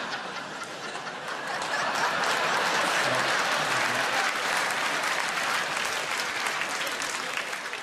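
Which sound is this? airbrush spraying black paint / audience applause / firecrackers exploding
audience applause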